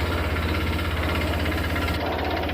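The engine of a Honda Click scooter, loud inside despite repairs, runs steadily with a constant, rough, throbbing drone and a rattling knock, close and loud throughout without talk.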